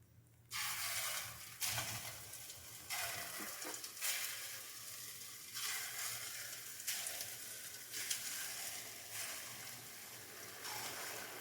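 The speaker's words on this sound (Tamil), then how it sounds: "எண்ணெய் நல்லா சூடாகிடுச்சுங்க பேர் பிழிஞ்சிக்கலாம்" Sweet batter pressed into hot oil for a crisp fried snack bursts into a quiet, steady sizzle and bubbling, with soft repeated surges as more batter goes in.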